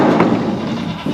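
Goats bleating at a farm pasture gate, a short burst of nasal, wavering calls close by with a soft thump, over a busy outdoor background.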